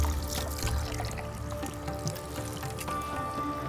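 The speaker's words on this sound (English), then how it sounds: "Rinse your hands once." Hands rinsed under a running tap in a kitchen during cooking, a steady pouring trickle of water close by, continuous for a few seconds.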